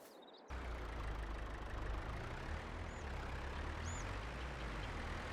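Truck engine in Farming Simulator 22 starts up after a brief quiet moment, then settles into a steady, deep, rumbling idle that holds without a break.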